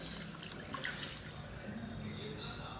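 Water is poured into a pot of sambar in a kitchen, giving a soft, steady splashing and trickling that is quiet and continuous throughout.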